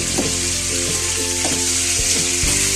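Shrimp for chopsuey fry in a hot pan with a loud, continuous sizzle, while a utensil stirs in a regular rhythm of scraping strokes, close up and without voices.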